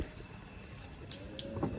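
The windscreen washer of a VW Polo sprays water in a steady, soft hiss that stays faint and even throughout, with no voices.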